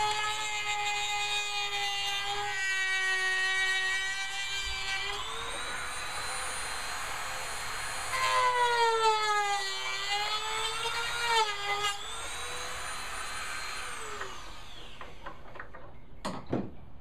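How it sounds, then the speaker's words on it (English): A Dremel rotary tool cutting material for a DIY fishing rod holder for a float tube, a high, steady motor whine that rises and falls in pitch as it bites into the workpiece, running close and continuous. "Of course, I'm using my Dremel."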